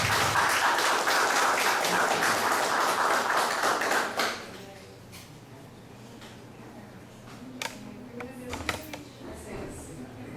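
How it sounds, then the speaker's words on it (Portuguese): Audience applause at a scientific meeting, a dense burst of clapping for about four seconds that stops abruptly, followed by quiet room noise with a few scattered taps and knocks. "é uma salva de palmas dele"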